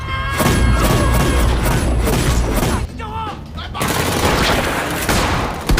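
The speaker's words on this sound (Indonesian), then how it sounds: "Terjadilah pergelutan dan tembak-tembakan di antara The Big Four dan pasukan Antonio" Rapid bursts of gunfire and heavy booms crack through a brutal shootout scene from the 2022 Indonesian action film The Big 4, loud and nearly continuous with a brief lull midway before the barrage resumes.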